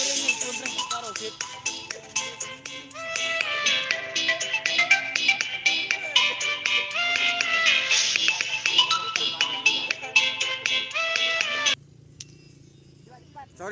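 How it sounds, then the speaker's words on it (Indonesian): A phone ringtone for an incoming call plays as a loud, busy electronic melody for about twelve seconds, then cuts off abruptly, leaving quiet background noise at an outdoor live event. "Ada telepon dari juragan."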